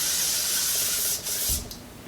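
Setting spray hisses onto a face in two or three quick bursts, close and fairly loud, then stops, leaving quiet.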